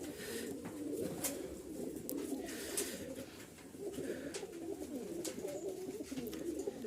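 Flying pigeons coo continuously in low, throaty rolling calls, several birds overlapping nearby, with occasional clicks and rustles.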